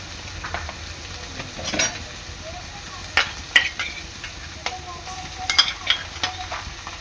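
Onions browning in a pan with ginger garlic paste stirred in, a soft steady sizzle under repeated scraping and clinking of a spoon against the pan, no talking.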